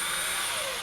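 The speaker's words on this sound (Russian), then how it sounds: "Первый саморезик я вкручиваю прям тут" A power screwdriver drives a self-tapping screw into a timber frame wall of a sauna under construction, a brief loud high whine that holds steady and then cuts off, close, with no talk.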